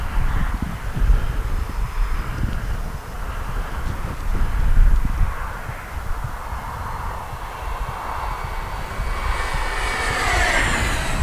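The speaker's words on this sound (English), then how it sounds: "Oh, what a smooth flying jet." A Freewing Vulcan 6S RC sport jet in flight, its electric ducted fan giving a steady whooshing roar that swells and fades as it passes, rising into a brighter whine near the end; no voices present.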